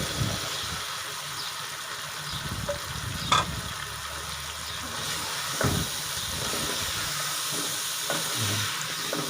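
Chopped okra (bhindi) frying in a pan makes a continuous hissing sizzle, with occasional sharp spatters and a few soft clunks from stirring. No one speaks.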